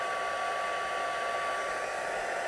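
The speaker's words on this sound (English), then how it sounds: "I'm going to bring in the heat tool" Embossing heat tool running on paper crafting, a steady close whooshing blower hum with a constant high whine, unchanging and alone for a few seconds.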